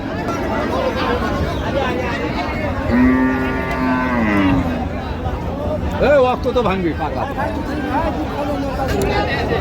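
A Sahiwal cow moos loudly twice, drawn-out and nearby, over the steady murmur of a crowd talking at a busy outdoor cattle market.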